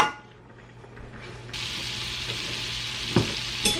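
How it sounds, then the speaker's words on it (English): Garlic sautéing in melted butter in a pan, a low sizzle that swells into a brighter, continuous hiss partway through, with a couple of brief knocks near the end and no voices. "saute the garlic for just a few minutes"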